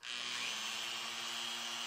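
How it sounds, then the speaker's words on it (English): A power drill bores a hole into the wood of a scratch-built guitar body, its steady high whine and grinding cut running continuously and close. "I'm going to start by drilling this hole here in one corner of where the route's going to be."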